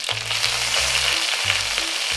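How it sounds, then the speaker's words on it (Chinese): Star anise, coriander and garlic sizzle and crackle steadily in hot oil in a wok, a continuous close frying hiss with faint stirring, no talking. "咱们现在就开始炒卤料，先放点油，1颗大料，然后我们把这个香菜放进去"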